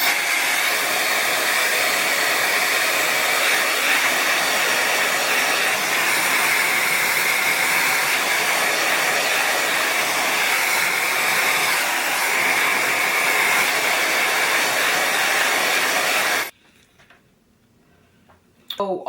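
A T3 Aire IQ blow dryer runs on full fan and full heat with a loud, steady, close roaring whoosh that cuts off abruptly near the end, leaving quiet.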